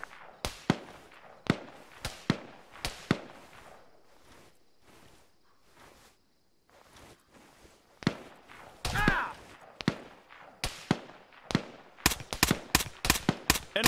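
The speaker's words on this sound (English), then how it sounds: "Enemy spotted. Machine gun." Sharp gunfire bursts from a machine gun in the Arma 3 game crackle in uneven bursts and single cracks, closer volleys near the end, with faint voice chatter underneath.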